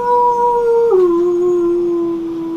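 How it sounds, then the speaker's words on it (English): A loud, piercing wolf howl held as a long steady tone, dipping in pitch partway through and sustained for over two seconds without any talk. "There's a loud, piercing, spine-tingling wolf's howl."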